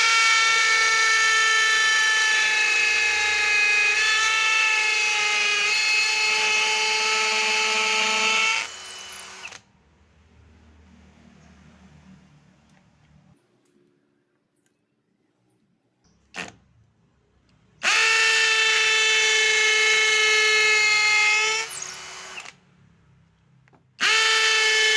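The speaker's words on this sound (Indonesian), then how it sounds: "Percobaan pertama kita akan menggunakan mata bor 5 mili" A DCA ADJZ03-13 hammer drill in hammer mode bores with a 5 mm bit, a loud whining, rattling run of about nine seconds, then near silence, then a shorter second burst of a few seconds.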